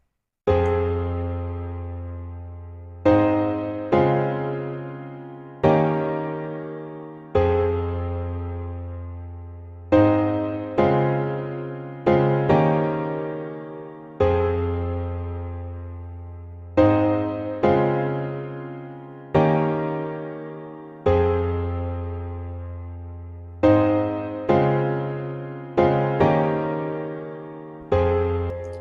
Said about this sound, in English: It is grand piano Nexus also, Nexus 2 grand piano.